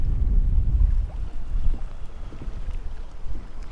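Wind buffets a fishing boat out on a bayou, a rough, continuous low rumble of gusts against the microphone with faint water movement beneath.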